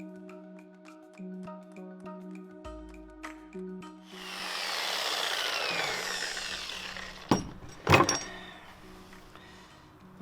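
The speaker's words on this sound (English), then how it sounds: "the pin has been cut through" A power tool cuts through a steel door hinge pin on a Lotus Europa with a fiberglass body: faint ticking and handling first, then a few seconds of harsh, loud grinding that fades, followed by sharp clanks.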